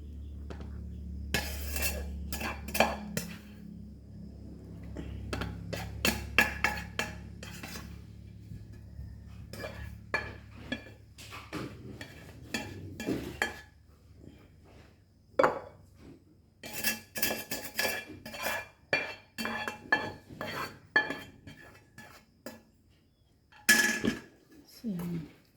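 Metal utensils scrape and clink against a frying pan while shrimp fried rice is stirred, irregular clusters of sharp taps and scrapes with quieter stretches between them and occasional talk.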